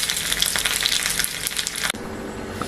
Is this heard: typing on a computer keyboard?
no